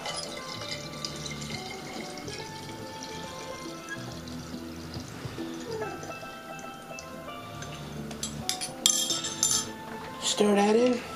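A spoon stirs water and an added ingredient in a cup during wine racking, degassing and clearing, giving light clinks of metal against the cup amid faint watery sounds, then louder clinking near the end.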